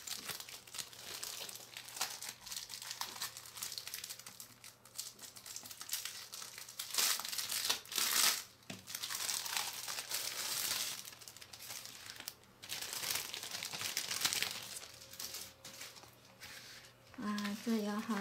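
Plastic packaging of a Snow White sticker set crinkles and rustles as it is opened by hand, close up and steady over about eighteen seconds, with a person talking throughout.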